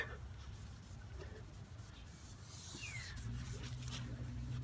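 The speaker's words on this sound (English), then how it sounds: "Just keep sanding." Steady, soft rubbing and scraping of 5000-grit wet sandpaper on a car headlight lens, continuous and close, with no talking.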